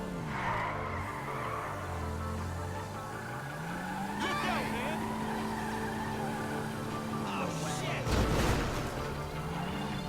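A car drives along with a steady engine drone that rises and falls in pitch, tires briefly squealing near the end, with a voice speaking over it.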